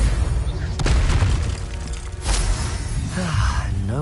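A Confringo blast spell explodes in the Hogwarts Legacy video game, loud booming bursts with whooshing magical crackle, several heavy impacts over a dense, busy combat soundscape with a voice shouting briefly.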